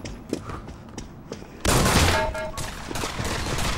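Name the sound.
gunfire in the video game Pavlov VR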